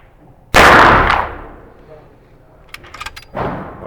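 Rifle shots from an Uberti 1873 Sporting Rifle on a 100-metre outdoor range: one loud, sharp report with a long fading tail, light clicks of the lever action, then the start of a second blast.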